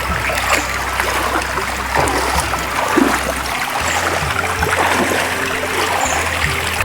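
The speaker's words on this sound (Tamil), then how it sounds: "அந்த தண்ணி வர்ற சத்தம் மட்டும்தான் கேட்குது." Steady rushing of flowing water, continuous and fairly loud, with a low engine-like hum underneath.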